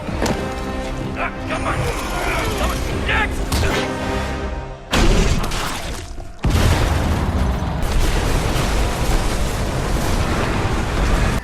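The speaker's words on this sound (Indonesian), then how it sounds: "mereka terlibat pertarungan yang mengakibatkan si Kruger bangetnya terkena bom" A loud cinematic bomb blast in an action movie, with heavy rumbling booms and crashing debris that fill the scene, mixed with dense score and effects and some talk.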